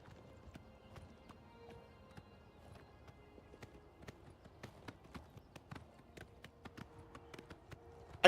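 Horse hooves clip-clopping in the video game Oblivion, a steady, close, quiet run of sharp hoof strikes over several seconds that grows denser toward the end.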